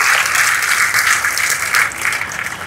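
An audience applauds participants at a science exhibition prize event, producing a dense, loud, steady wash of clapping that carries on for the whole stretch with no voices over it.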